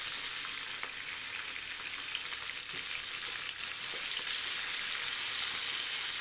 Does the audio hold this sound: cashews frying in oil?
yes